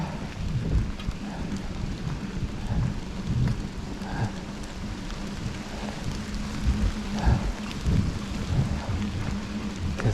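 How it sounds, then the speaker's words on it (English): Steady rain falls across a wooded mountain bike trail at Luton Park in Rockford, Michigan, a broad wash of patter with low rumbling beneath, continuous and fairly close, with no one talking. "this seems to be raining"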